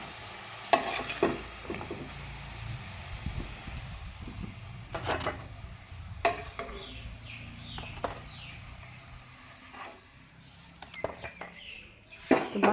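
Raw banana koftas fry in hot oil with a steady sizzle, broken by several sharp scraping and clinking utensil sounds as they are stirred and lifted, with faint bird calls in the background.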